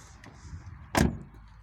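A single door slams shut on an Opel Astra H car, a short, solid thud over quiet background noise.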